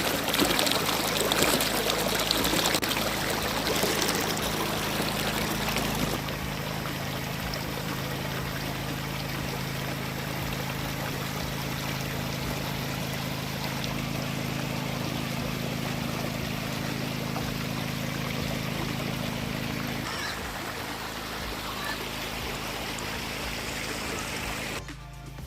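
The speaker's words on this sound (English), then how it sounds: "So the river is flowing very calm." Calm river flowing steadily in St. Ann, Jamaica during the dry season, a continuous broadband wash of moving water that holds even and close for the full length, slightly fuller in the opening seconds and easing a little near the end.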